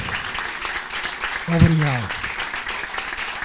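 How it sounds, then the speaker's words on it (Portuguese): Studio audience applause for a guest runs as a moderate, continuous patter of clapping, with someone briefly speaking over it midway. "Uma salva de palmas também para o nosso convidado"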